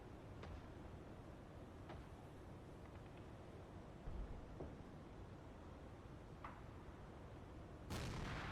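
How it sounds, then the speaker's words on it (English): Mortar fire in a war video game: faint, distant thuds and sharp cracks land sporadically, about five or six in all, over a quiet, hissing background. "Should be starting to mortar these guys up a little bit more again."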